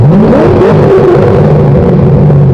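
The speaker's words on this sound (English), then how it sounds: "You haven't heard this car's new exhaust, huh?" A car engine revs and drones loudly and close by, a deep throaty exhaust rumble rising and falling without pause.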